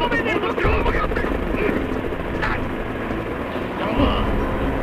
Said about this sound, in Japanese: 今ヘリが飛び立ちます。